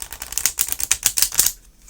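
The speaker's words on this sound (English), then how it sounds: "do the riffle shuffle" A tarot card deck is riffle shuffled up close, a rapid flurry of crisp card flicks lasting over a second before stopping, with no talking.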